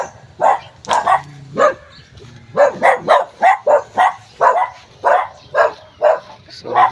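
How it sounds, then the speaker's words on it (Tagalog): A dog near a roadside house barks repeatedly, a dense series of sharp, loud barks and yips close by in an irregular rhythm for several seconds. "So may aso guys kumakahon."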